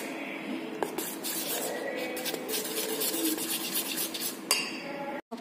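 Besan pakora batter with turmeric, salt, kasuri methi and ajwain being stirred in a bowl, a continuous wet scraping and swishing with a few sharp clinks of a utensil against the side, close and fairly loud.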